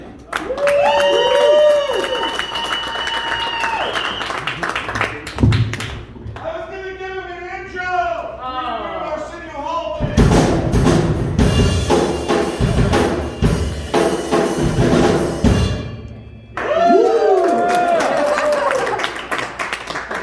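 A comedy show crowd claps and cheers loudly for a comedian being introduced, in several waves with whoops, while a host talks over parts of it.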